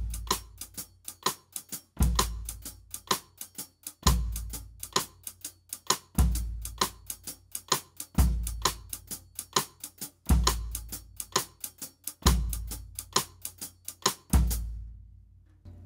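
A drum kit plays a shuffle with the hi-hat on swung eighth notes while the bass drum lands on beat one and then shifts back an eighth. It sounds as a steady, loud, close repeating groove with strong kick hits recurring about every two seconds.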